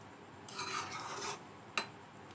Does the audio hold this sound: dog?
no